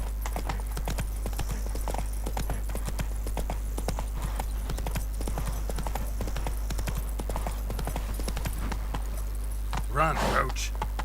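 Roach, a horse in the video game Witcher 3, gallops with a steady, close run of hoof clip-clops over continuous low ambience, and a short vocal burst rises near the end.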